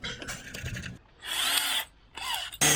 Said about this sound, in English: Drilling my aluminum fender.